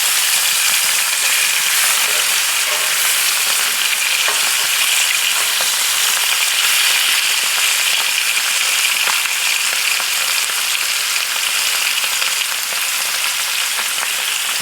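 Flank steak sizzles and fries steadily in a hot pan on dual burners, a loud, continuous crackling hiss throughout with occasional small scraping clicks, no talking.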